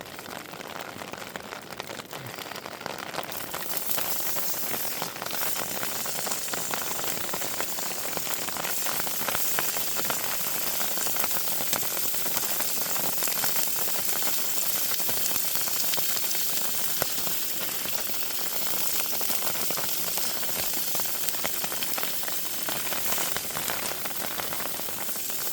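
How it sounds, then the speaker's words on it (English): Steady rain patters on a tent during a wild camp on Loughrigg Fell, a dense, even hiss of drops drumming on fabric that continues without a break, close and fairly loud, with no talk. "The rain is right on cue,"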